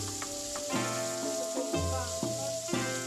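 About 100 g of pork frying in a little oil in a preheated pan until browned, giving a steady close sizzle with a few soft knocks and scrapes, alone and without talk.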